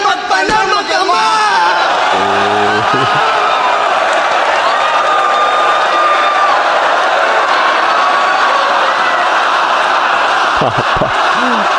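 A crowd at a FlipTop rap battle roars and whoops loudly, sustained cheering and yelling filling the whole stretch with scattered shouts rising above the noise.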